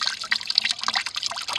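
Apple juice drizzles and drips from a hand-cranked cider press, a close, bright irregular trickle with fast patter that keeps going without a pause.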